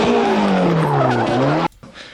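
A loud four-cylinder Cosworth race engine screams past with squealing tires, pitch sweeping down as it passes, then cuts off abruptly into quiet.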